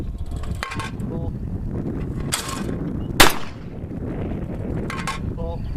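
Remington Model 58 Sportsman shotgun fires outdoors, a single sharp loud blast near the middle with a short decaying tail, amid steady wind noise and brief bursts of talk.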